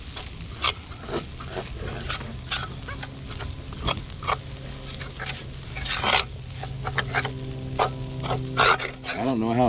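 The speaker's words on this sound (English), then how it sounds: "Sweet potato leaves and eggs added to the pan." Sweet potato leaves and eggs fry in a pan, sizzling steadily under repeated scraping and stirring clatter from a utensil, with a voice talking over it.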